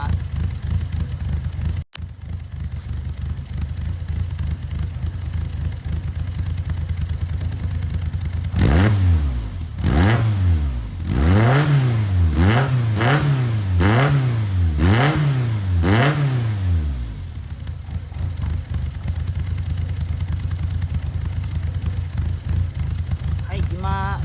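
A Toyota AE86 idles steadily nearby, its intake and exhaust a low continuous drone, interrupted midway by a series of rising and falling revs before settling back to idle.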